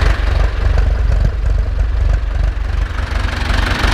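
An Ursus C-360 tractor engine idles loud and close in a steady, rapid diesel chug with a faint knocking rhythm, running evenly throughout with no voices.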